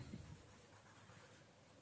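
Chalk or marker writing on a classroom board during a children's English lesson, a faint, brief scratchy stroke in a quiet room with no talk.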